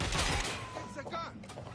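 Gunfire in Watch Dogs: Legion: a burst of shots at the start fades into a scattered, ringing tail while a voice speaks faintly underneath.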